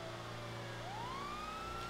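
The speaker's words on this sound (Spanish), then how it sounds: "Este vehículo, además, las sirenas me funcionan mucho mejor." Police car siren in the LSPDFR police mod for GTA V, a faint wail that sweeps upward in pitch over a steady vehicle engine drone, with no voices.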